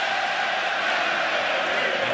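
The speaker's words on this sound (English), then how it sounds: "And the crowd goes up from the Irish fans." Irish fans in a packed arena roar and cheer at a boxing match, Floyd Mayweather against Conor McGregor, in a dense, steady wall of crowd noise that never lets up.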